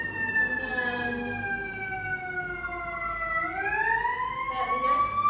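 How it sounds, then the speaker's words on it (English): A fire truck siren wails outside, its long tones sliding down and then up again while the vehicle passes at a middle distance. The siren stays loud throughout over a low street rumble. "Maybe send some love to wherever those sirens are going."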